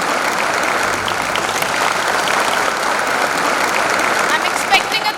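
An audience at an annual recognition ceremony applauds Mrs. Ranjita Gunjar, steady dense clapping throughout with a few louder claps near the end and some voices mixed in.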